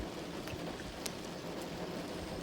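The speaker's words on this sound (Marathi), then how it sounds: "रात्रभर दिवसभर नुसता झिमझिम पाऊस चालू आहे" Light, steady drizzle falls outdoors among soybean fields during the monsoon in Maharashtra, a faint, even hiss with no voices.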